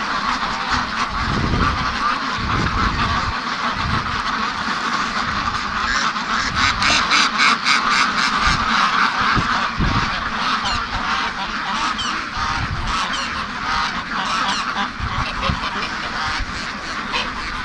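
Brant geese at a lake call in repeated honks, several birds overlapping in fairly close, busy bursts over a steady background.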